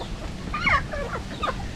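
A rooster clucks nearby in a few short, throaty bursts, fairly loud over a low background hum.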